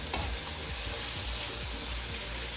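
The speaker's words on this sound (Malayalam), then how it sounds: "തക്കാളി ചേർത്തതിന് ശേഷം നന്നായിട്ടൊന്ന് ഇളക്കുക" Tomatoes and onions frying in a pan while being stirred, a steady close sizzle with soft scraping strokes for biryani.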